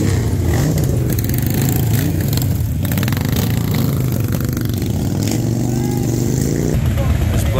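Motorcycles, including British and classic machines such as a Royal Enfield, rumble and rev past in a parade leaving Brit Jam in East Haddam, Connecticut, a continuous loud engine drone with people talking over it.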